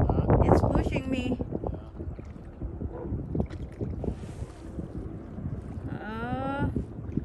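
Wind gusts buffet the microphone while kayaking on the Feather River, rough rumbling bursts that rise and fall, with a person talking and a few bird-like chirps in between.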